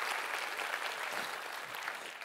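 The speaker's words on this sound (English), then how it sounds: "Let's give Miss Tamara a good hand clap, amen, for a great message." Church audience applauds after a sermon, a steady full round of clapping from many hands at a moderate distance that holds evenly throughout.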